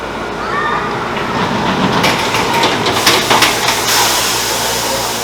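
A roller coaster train rumbles and clatters loudly on its track, with a hissing burst of air as it dispatches from the station.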